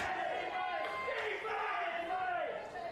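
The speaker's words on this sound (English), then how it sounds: "we hear the crowd shouting defence" Rugby league crowd at a men's premiership preliminary final chanting in unison, a loud sustained mass of voices with rising shouts from the stands.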